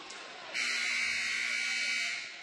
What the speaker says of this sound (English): And there's that dreaded disqualification buzzer.